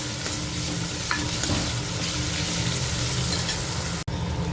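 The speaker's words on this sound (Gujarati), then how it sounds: "બધા બટેકા નમ થઈ જાય પછી આવી રીતે એને હલાવી દઈશું." Potatoes frying in a pan for sabudana khichdi, stirred with a spoon: a continuous close sizzle with soft scraping, broken by a sharp click near the end.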